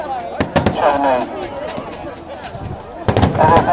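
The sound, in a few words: fireworks at Lewes Bonfire Night display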